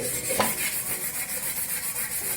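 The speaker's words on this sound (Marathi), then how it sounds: "मी नेहमी हा कवरनेच तवा हा स्वच्छ करते" Steady rhythmic rubbing and scraping on an iron griddle scrubbed with a plastic bag, a rough scrubbing texture repeating over a faint hiss.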